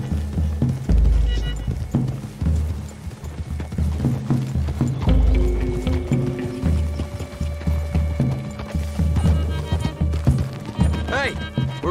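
Horses ridden through trees in Red Dead Redemption 2, with steady clip-clop hoofbeats and a low rumble under someone talking, plus a snort or whinny near the end.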